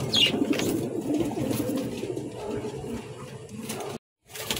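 A grizzle running pair of pigeons coos in soft, repeated low calls, fairly close, with background farm noise and a brief dropout near the end.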